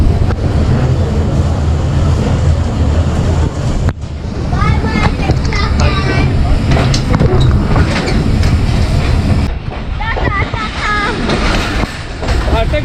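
A passenger train pulls away from Taxila railway station in Pakistan, its wheels clattering in rhythmic clickety-clack with a heavy rolling rumble and wind buffeting the microphone, loud and continuous, with someone talking over it.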